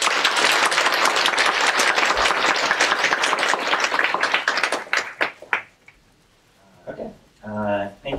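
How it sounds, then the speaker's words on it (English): An audience bursts into dense, loud applause welcoming keynote speakers at an Angular developer conference in Japan, steady clapping that thins out into scattered claps before a voice begins speaking. "Please welcome Miles and Rado with applause."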